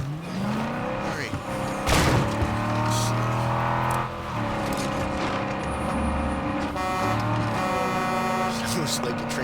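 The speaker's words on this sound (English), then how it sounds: "Sounds like a transport truck." A transport truck in the video game State of Decay 2 drives with a steady engine drone while its horn honks in short blasts, alongside other game noise and a voice talking over it.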